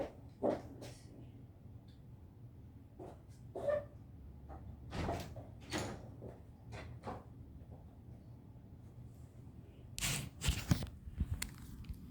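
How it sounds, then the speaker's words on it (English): Hospital doors opening with a scattering of soft clunks and knocks, then a sharper, louder burst near the end over a low, steady room hum. "Doors open."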